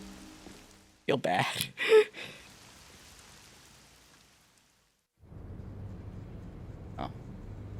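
Rain falls in the video game Master Detective Archives: Rain Code, a steady soft patter that fades in after a short spoken remark and continues evenly to the end.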